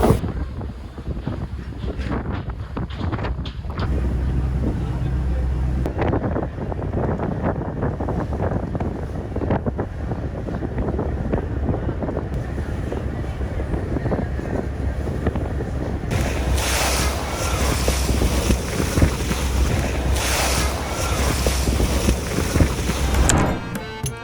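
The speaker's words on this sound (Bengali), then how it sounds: "আজকে আমি যাচ্ছি ঢাকা থেকে চাঁদপুরের উদ্দেশ্যে বগদাদিয়া 7 লঞ্চে" A passenger launch cruises on a river from Dhaka to Chandpur, with a steady engine rumble, rushing water and strong wind buffeting the microphone throughout.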